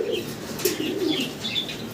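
A pair of Black Magpie Pouter pigeons cooing up close, soft repeated low coos with occasional faint chirps and light wing rustles, no talking.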